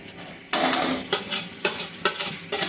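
Ingredients go into a hot pan for a chira and paneer pilaf: a loud sizzle bursts in, then several scraping stirs follow in an uneven rhythm, close by and with no voices.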